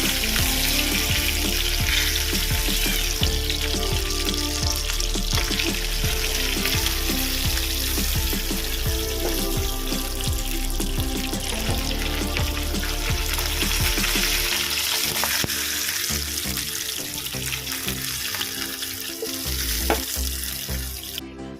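Pabda fish frying in hot oil in a pan, a steady loud crackling sizzle that runs continuously for about twenty seconds and eases slightly near the end.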